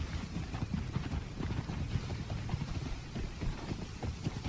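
Horse hooves clip-clop in a cloth-simulation MMO video game demo, a steady run of soft thudding steps in a quick rhythm over light wind-like background noise, with no talking.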